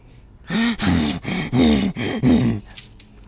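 A character in the video game The Elder Scrolls V: Skyrim pants loudly in a series of short, heavy breaths, about five in a row, then falls quiet.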